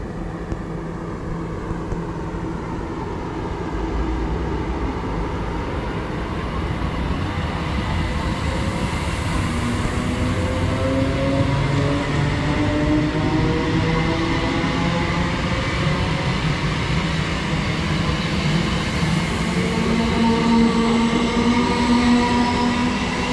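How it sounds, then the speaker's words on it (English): A Class 321 electric train departs a station in Essex, a loud, steady rumble of wheels and traction motors. Rising whines build as it pulls away, and it stays close throughout with no talking. "So 321's leaving, and I'm going to finish the video here,"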